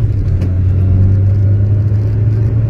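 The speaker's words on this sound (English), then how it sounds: "So we're driving an Allegro in the UK in 2024." An Austin Allegro on a road in the UK, its engine a steady low drone with constant road rumble throughout, close and loud with no voices.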